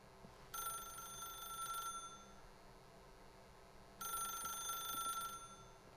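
A telephone rings twice in The Stanley Parable video game, with two separate bursts of bright, trilling bell tone and a quiet pause between them.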